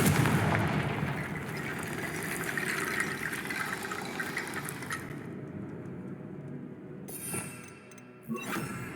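A Confringo fire spell blast in the Hogwarts Legacy video game, a loud rushing, crackling burst that fades into a sustained roar before cutting off, followed by a short final thump.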